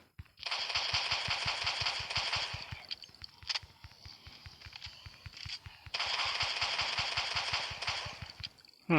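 Semi-automatic shotgun firing in the zombie defense game They Are Coming, a rapid run of loud, evenly spaced shots in two long bursts separated by a short pause, with no talk.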